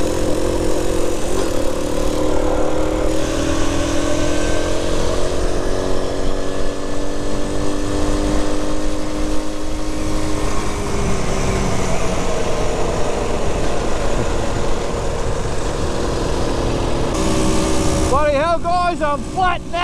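A postie bike motorcycle engine drones steadily while riding, loud and close with rising and falling revs and wind noise, before someone speaks briefly near the end.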